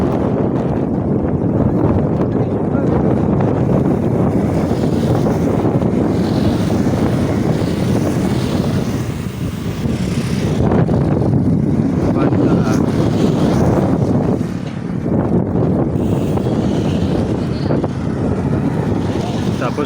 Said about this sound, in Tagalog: Sarap ng hangin dito, ang lamig.